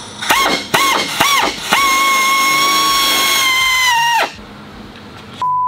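Power tool work on a Chevy S10 cylinder head, drilling and tapping a stripped hole for a Heli-Coil thread insert: several short, loud, whining bursts, then a long steady high-pitched whine lasting a couple of seconds before cutting off, with a faint tone after.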